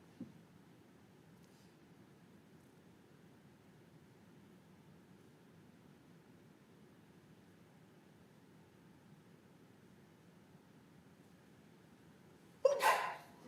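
A single short, sharp sneeze bursts out near the end after a long stretch of quiet room hum during an arbitration hearing, with a faint breathy sound at the very start.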